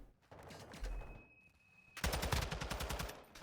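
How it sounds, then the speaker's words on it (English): Gunfire from a long-range gunfight in the Call of Duty video game, in a competitive college tournament match. A few scattered shots come first, then a dense, loud burst of rapid automatic fire rattles for the final second and a half. "with Diff, taking that long-range gunfight"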